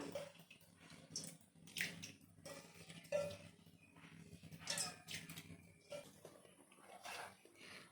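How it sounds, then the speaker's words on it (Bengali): Red lentils being rinsed in water, then tipped into hot water while cooking a Bengali jute leaf dish: soft sloshing, splashing and pouring bursts with occasional clinks of a utensil on a pot. "ডালটাকে আমি ভালো করে ধুয়ে নিলাম গরম জলে ডালটাকে দিয়ে দিলাম"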